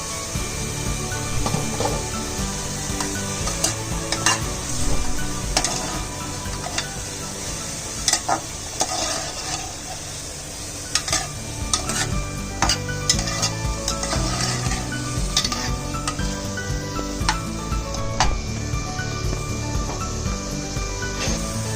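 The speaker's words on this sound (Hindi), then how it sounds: "ये हो रहा है मशरूम, ये मशरूम पक रहा है।" Mushrooms fry and get stirred in a pan, a steady sizzle broken by frequent scrapes and clinks of a spoon against the pan, close and continuous with no talking.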